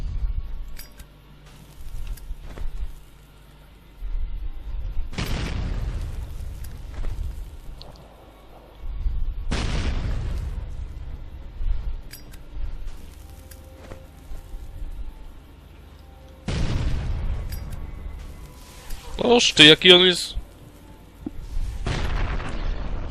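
Several heavy booming explosions in the video game Fallout: New Vegas go off at intervals, each a sharp broadband blast fading out, with a brief crackling burst near the end and a voice speaking.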